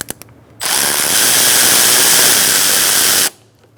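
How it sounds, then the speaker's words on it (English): An 8mm socket on a power driver loosens the upper hose clamp on a 2007-2017 Ford Expedition: a few faint taps, then one loud, continuous whirring burst of about three seconds that stops abruptly. "Using an 8mm socket, we're going to loosen up our hose clamp for our upper hose."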